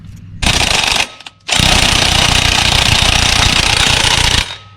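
Rattle gun (impact wrench) removing tight wheel nuts on an N70 Hilux, loud and close: a short hammering burst, a brief pause, then a longer sustained rattling run that stops abruptly.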